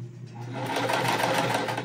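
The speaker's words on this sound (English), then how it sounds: "I am going to sew them at the same exact time instead of trimming the edges again" A sewing machine stitching pieced cotton quilt blocks runs in one steady, close, continuous whir with a fast even motor hum and no talking.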